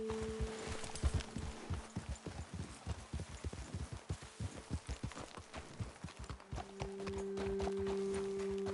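Horses walk at a steady clip-clop pace along a trail in the Wild West game Red Dead Online, with close, rhythmic hoofbeats that continue the whole time over a faint outdoor ambience with a low, steady hum underneath.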